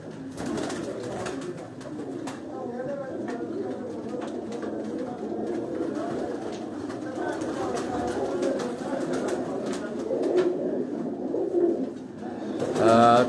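Sialkot breed pigeons coo in a steady, overlapping chorus throughout, soft and close with a busy background murmur.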